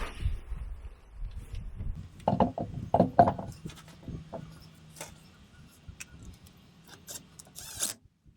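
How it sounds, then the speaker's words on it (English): A Porsche 996 C4S wheel being refitted and its nuts tightened, with clanking metal, bursts of ratchet clicking and rattling tool handling, close and uneven, with quiet pauses between the actions. "let's put the wheel back on, torque it back up."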